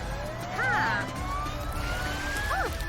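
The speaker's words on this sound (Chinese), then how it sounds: "啊哈，救护车安博来了！" Cartoon ambulance siren wails in rising and falling sweeps over a steady background hum, with brief chirping tones layered on top; moderately loud and close.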